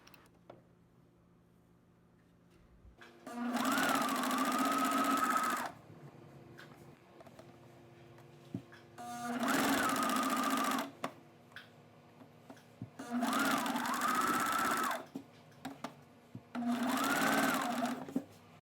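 A sewing machine with a rolled hem foot hems fabric in four loud, steady whirring runs of a few seconds each, separated by quiet pauses with faint clicks.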